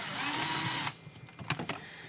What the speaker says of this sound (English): So now we can take a 7mm socket and loosen this clamp on the intake boot.